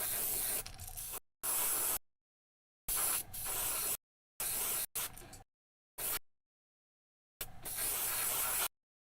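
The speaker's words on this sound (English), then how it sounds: "I'm going to clean out the extra paint in the airbrush" Short bursts of an airbrush blowing out leftover paint, a close, steady hiss that starts and stops abruptly about six times with silent gaps between.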